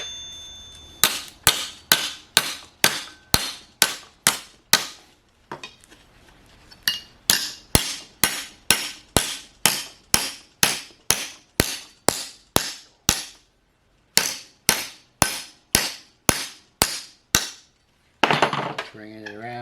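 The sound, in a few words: hammer forming sheet metal rocker panel in fixture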